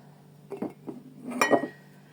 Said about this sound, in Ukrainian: Чесник я подрібнила, готуємо в баночки, кидаємо так потрошечку.